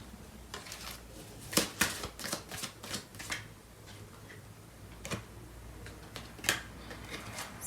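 Tarot cards are shuffled by hand in a quiet room, giving soft scattered riffling and tapping clicks with a few sharper snaps, close and faint, with no talk.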